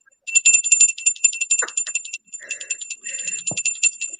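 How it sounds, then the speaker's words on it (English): A small hand bell rung repeatedly indoors, bright ringing strokes in quick rhythmic bursts with a short pause midway, close and clear, with a few brief voice sounds in between. "I have a bell."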